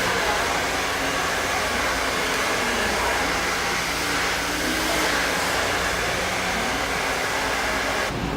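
Hair dryer blowing continuously while drying hair extensions in large sections, a loud, steady airy roar that runs unbroken throughout, with no talking.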